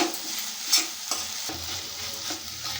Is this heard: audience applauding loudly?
no